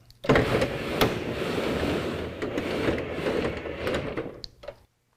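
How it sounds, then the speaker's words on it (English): A Retrax PowertraxONE MX electric tonneau cover on a 2019 Chevy/GMC 1500 pickup opens with a continuous whirring motor hum and sliding rattle, a few clicks along the way, then stops abruptly. "To open the cover, just press and hold the O button."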